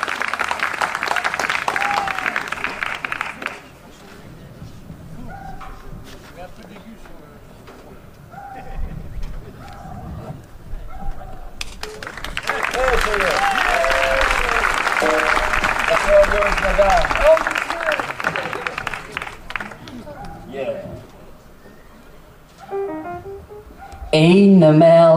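A jazz concert audience in Fréjus applauds the performers, with a burst of clapping at the start and a longer, fuller round later, separated by someone speaking.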